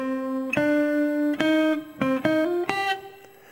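Electric guitar lick from a cover, a short run of clean sustained single notes with bends and quick picked changes, played alone and close.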